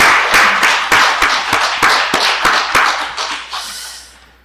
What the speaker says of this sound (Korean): 추위 가운데 설치하고 또 이렇게 정리하느라고 수고하신 우리 꽃꽂이부에 감사의 박수 한번 보내겠습니다